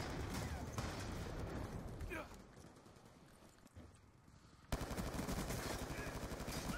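Automatic gunfire from Black Ops 2 rattles in fast bursts, dropping to sparser shots before a loud volley resumes, with a player talking over it.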